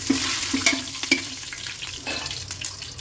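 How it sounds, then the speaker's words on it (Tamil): Bay leaf, fennel, cardamom, cinnamon and cloves fry in warm oil for methi pulao, giving a steady soft sizzle with a few light stirring clinks, close by and without voices. "இதை எண்ணெய் கொஞ்சம் வார்ம் ஆன உடனே இதை போட்டுருவோம்."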